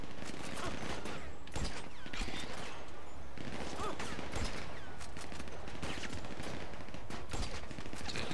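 Rapid gunfire from a sniper rifle and other weapons during a boat heist shootout in GTA 5 on PS3, dense bursts and volleys layered over game noise.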